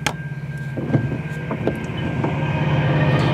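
A CN freight train led by locomotives 8804 and 8808 rolls past close by, wheels clacking over rail joints with rhythmic thumps as the cars bounce and rumble under a steady hum.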